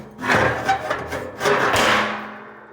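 A metal lid being fitted onto a biochar retort: a few loud, close scraping and knocking thuds with grinding rubs between them, fading out at the end.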